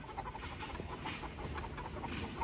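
Chickens clucking in a busy barnyard setting, a steady chorus of hen calls layered with broad background noise, no clear single bird standing out.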